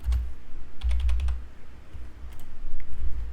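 Bursts of computer keyboard typing come during a naval strategy game session, close quick key clicks in short clusters separated by brief pauses.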